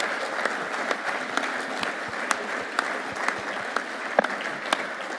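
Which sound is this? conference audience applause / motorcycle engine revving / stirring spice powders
conference audience applause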